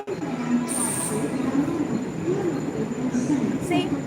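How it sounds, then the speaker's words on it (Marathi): A Borivali AC local train in Mumbai rumbles steadily with a broad mechanical roar, and thin high-pitched squeals rise briefly above it. "बोरीवली एसी ट्रेन आहे बघा"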